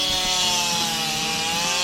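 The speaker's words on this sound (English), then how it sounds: "He's out there chopping up a tree. Well, sawing up a tree." A Garwinner 5820G chainsaw cuts through a tree, a loud, steady buzzing rasp running without a break from start to finish, close to the listener.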